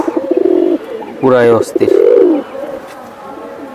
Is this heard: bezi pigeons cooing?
yes